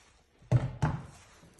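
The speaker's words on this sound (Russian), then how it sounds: "Открываем крышку." A cooker lid is lifted open after resting on a switched-off stove, giving two close, dull thunks a fraction of a second apart, then quiet.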